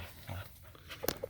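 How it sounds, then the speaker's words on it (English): A dog climbing onto someone in a backyard gamefowl yard whimpers and pants softly up close, quiet and brief, ending in a couple of sharper yips. "I got a dog on my back, literally."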